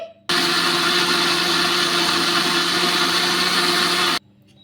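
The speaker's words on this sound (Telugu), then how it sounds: "ఇప్పుడు మూత పెట్టేసుకొని మెత్తగా మిక్సీ అయితే పట్టేసుకోవాలి" A mixer grinder whirs loudly for about four seconds, grinding soaked dosa batter with water, starting and stopping abruptly with a steady, even motor roar.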